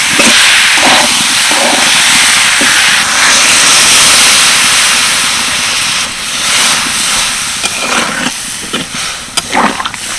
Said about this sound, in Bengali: এবার আমি সর্ষে পেস্টটা দিয়ে দিচ্ছি ভালো করে মিশিয়ে নিয়ে জল দিয়ে দেবো